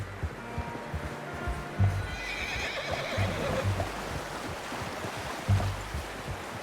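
A horse whinnies over steady ambient noise, with heavy low thuds and hoof-like clopping scattered through the clip, in the video game Red Dead Redemption 2.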